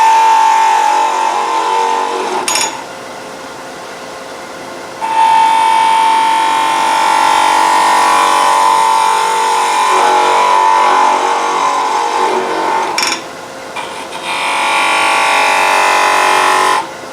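A wood lathe turns a spiral goblet, with a steady motor whine and a hissing cutting noise. The sound comes in long stretches and drops away twice for short pauses.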